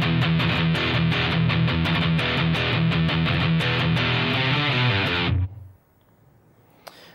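A distorted electric guitar plays a fast metal riff of alternate-picked notes with accents, loud and driving for about five seconds before stopping abruptly, leaving a faint ringing decay and one small click.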